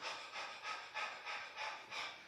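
Rapid, rhythmic panting breaths puff in and out, about five even airy pulses in quick succession, close and fairly soft with no other sounds.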